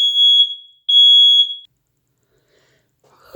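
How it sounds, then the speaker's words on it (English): A home smoke detector set off by burning Palo Santo shrills in two loud, piercing high-pitched beeps, each lasting close to a second, followed by quiet. "I had lit some Palo Santo right before starting your all's reading, and I guess my fire alarm did not like that very much"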